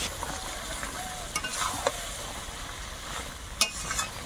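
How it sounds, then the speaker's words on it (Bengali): Fried potatoes are stirred into duck curry in a pan, giving a soft continuous sizzle with occasional scraping clinks of a spoon, fairly quiet and close. "এখন একটু নেড়ে চেড়ে দিচ্ছি, আর এর মধ্যে ভাজা আলুগুলো দেবো।"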